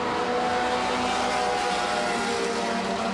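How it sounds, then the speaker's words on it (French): Four-cylinder race cars circle the track during the final at Autodrome Granby, a continuous, loud engine drone with overlapping cars roaring past and no gaps, heard with no talk on top. "On retrouve la voiture numéro 42 de Stéphane Brouillard en quatrième position"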